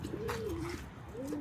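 Pigeons in a pigeon house coo in two soft, throaty rolling calls, close by and moderately quiet, with a faint steady background noise and no talk.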